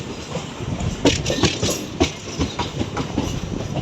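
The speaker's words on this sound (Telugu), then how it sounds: "మన ట్రైన్ లోపలికి వెళ్తుంది ఆ ట్రైన్ బయటకు వస్తుంది" A train rumbles past through a station with rhythmic clickety-clack of wheels over rail joints, steady and fairly loud, with sharper knocks recurring every half second or so.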